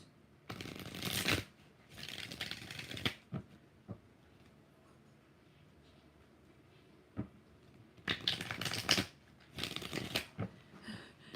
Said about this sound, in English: 6 shuffles